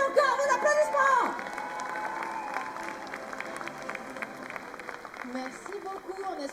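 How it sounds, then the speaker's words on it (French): Audience applause at a cosplay parade on a festival stage, a loud burst of clapping and cheering that fades into a steady crowd murmur, with singing or voices over it. "ils méritent encore vos applaudissements."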